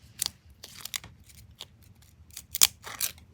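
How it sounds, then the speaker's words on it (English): Scissors cutting through a washi sticker, several crisp close snips scattered unevenly, with one sharper cut standing out toward the end. "This is some kind of washi sticker, so I'm gonna, I wonder if you can cut these with this."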